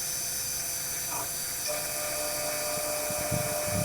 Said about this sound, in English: Roughing the slot back out.